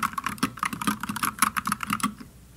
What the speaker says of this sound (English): Double-shot PBT keycaps also help to elevate the typing sound and feel.